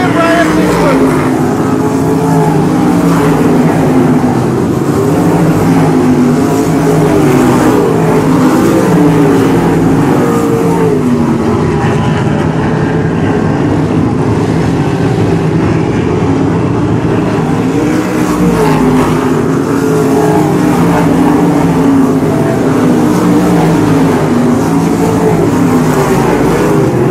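Sprint cars race around the dirt track at Boyd Raceway, their engines blending into a continuous, loud, gritty roar that rises and falls slightly throughout.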